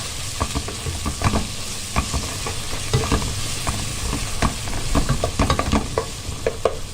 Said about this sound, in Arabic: احط شويه الفلفل، نقلبهم مع بعض.